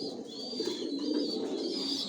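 Imported racing pigeons coo in a loft, a close, continuous layered murmur of soft rolling calls from several birds with no voices over them.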